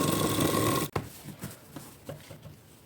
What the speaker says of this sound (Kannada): ಇದನ್ನು ಓಪನ್ ಮಾಡಿಕೊಂಡು ಮೇಲ್ಗಡೆ ಪ್ರೆಸ್ ಸ್ಟಿಚ್ ಹಾಕೊಳ್ಳೋಣ.